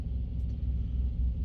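Steady low road rumble of tires heard from inside the cab of a moving Prime Inc semi truck, constant and unbroken with no talking.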